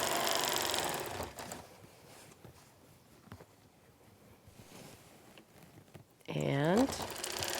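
A sewing machine quilts the borders of a baby quilt lined with Hobbs wool batting, giving a steady hiss and hum that dips midway, then surges loud near the end with a rising whine.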